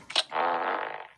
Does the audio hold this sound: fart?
yes